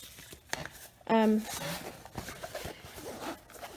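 A zipper runs along a vinyl zipper pouch made with backstitch prints, giving one quick, loud, rasping pull of about a third of a second. Soft handling noises and a voice come before and after it.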